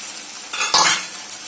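Potatoes go into a hot pan for a Bengali fish curry, setting off a sudden close, loud hiss of sizzling oil that swells briefly and then settles.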